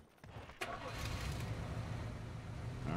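A vehicle engine in PUBG Battlegrounds on the Deston map, starting with a sharp catch and then settling into a steady, rumbling idle, close by and faint overall.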